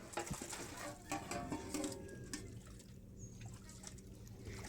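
Water trickles and splashes as country chicken is washed by hand in a kitchen before cooking, a soft close patter with a few clinks, under quiet background noise.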